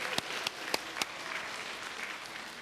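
A church congregation claps at a New Year holiday service: several sharp, loud hand claps open the sound, then settle into steady, dense applause filling the rest. No one speaks.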